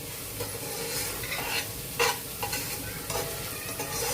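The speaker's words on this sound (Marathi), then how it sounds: "आता अद्रक लसणची पेस्ट आणि तो कच्चा मसाला थोडासा जरा भाजून घेऊ आपण" Ginger garlic paste and raw masala sizzle and fry in a pan, a steady close crackle broken by scraping stir strokes every half second or so, with no voices.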